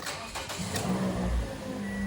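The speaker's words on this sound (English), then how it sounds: "Just start the car." A 2014-2019 Toyota Corolla's engine cranks and catches, rising from a brief starter churn into a close, steady mid-pitched idle.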